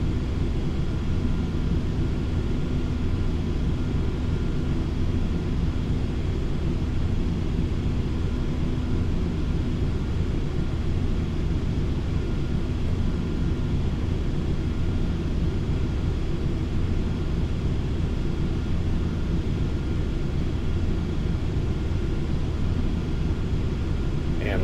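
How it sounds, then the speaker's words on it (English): A Boeing 737-800 cruises at flight level 350 in the flight simulator FSX, heard as a steady, even cabin engine drone with a low rumble that holds constant without change. "we're flying a Boeing 737-800"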